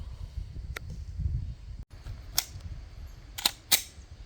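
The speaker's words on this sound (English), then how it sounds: "We're just shooting at about 6 yards here, nothing special." Palmetto State Armory Dagger pistol fired at about six yards outdoors: a few sharp, moderately distant cracks spaced irregularly over a low rumbling background, with no voices.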